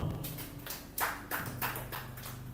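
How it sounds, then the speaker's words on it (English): An audience at a PWAN land-business seminar claps in scattered bursts, uneven and moderately close, over a low indoor hum. "Can you clap for PWAN?"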